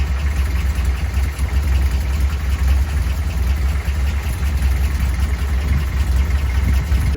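A Toyota pickup truck engine idles after a welded muffler repair and a new exhaust flange gasket, a steady, close low rumble that holds evenly with no pauses.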